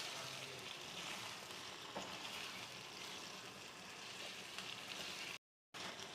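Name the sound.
stirring paste into chicken white karahi in pan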